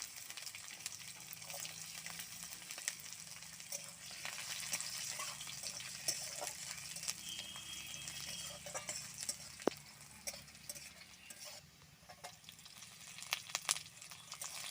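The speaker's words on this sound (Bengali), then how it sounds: "রসুনগুলো একটু লাল লাল করে ভেজে নিতে হবে" Garlic cloves frying in oil in a home Bengali kitchen, a steady quiet sizzle with occasional stirring scrapes and small crackles running throughout, no voices.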